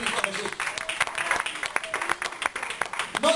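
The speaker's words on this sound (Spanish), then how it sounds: "Yo quiero que usted le diera un aplauso al Dios vivo" A Sunday church congregation claps for God, a fairly quiet, scattered round of applause with some voices murmuring underneath.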